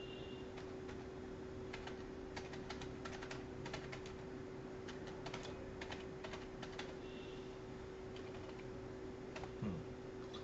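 Keys tap on a computer keyboard as a name is typed, a faint, rapid run of clicks in uneven bursts over a steady background hum, with no talk.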